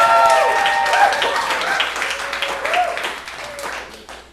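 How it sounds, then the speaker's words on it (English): Audience applause after an open mic performance at a café, a steady wash of clapping lasting several seconds and slowly thinning, with voices and a tonal sound mixed in. "Let's have another round of applause for Gray."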